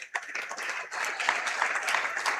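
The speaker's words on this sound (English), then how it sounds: "they are getting rounds of applause here from not just the faithful from Prairie du Chien, but also the Cuba City home crowd as well" Home crowd and visiting fans clap steadily through a high school boys basketball game in a gym, a sustained round of applause with no single claps standing out.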